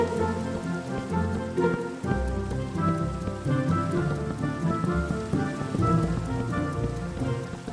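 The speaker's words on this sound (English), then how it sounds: "And here comes the rain." Rain falls in Minecraft, a continuous patter of drops on surfaces mixed with bright tonal music and small clicks, steady and fairly close throughout.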